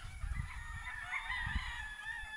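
A Gilmore Roundhead stag, a young yellow-legged gamecock at a game farm, crows faintly at a distance, the drawn-out call carrying over low background rumble.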